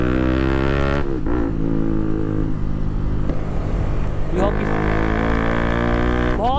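A Bajaj Pulsar RS200 motorcycle fitted with an Akrapovic exhaust roars loudly and close by at night, a deep steady drone swelling through two or three sharp rev surges.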